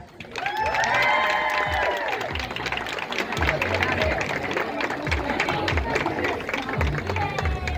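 A crowd at a 2022 Medina prom entrance breaks into loud, sustained applause mixed with cheers and whoops, continuous and full for several seconds, with voices shouting among the clapping.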